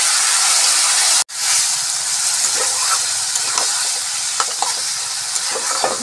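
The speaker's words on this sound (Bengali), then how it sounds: "এগুলোকে ভালো করে কষিয়ে নেব" Onion, tomato and green chili masala sizzles and hisses loudly in a hot pan, a dense continuous frying sound broken by one brief cut-out, with light scraping from stirring.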